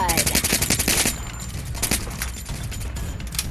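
Rapid bursts of gunfire from the Free Fire video game, a fast automatic rattle for the first second followed by scattered single shots and shorter volleys, loud and close throughout.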